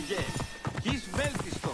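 Horse hooves clip-clop in Assassin's Creed Origins, a steady galloping rhythm of close, moderately loud hoofbeats mixed with voices and game sounds.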